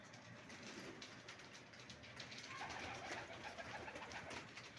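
Pigeons coo steadily and softly outdoors beside a home pigeon loft, the soft repeated calls carrying over a constant hiss of background noise, with no talking.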